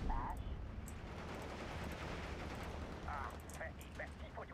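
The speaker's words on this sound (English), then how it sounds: "But they'll run into these machine guns" Machine gun fire rattles on a World War II battlefield in the strategy game Steel Division II, a dense continuous rumble of distant gunfire and blasts at low level.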